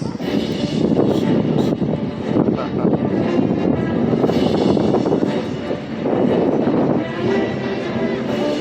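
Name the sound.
airplanes flying in formation at an air show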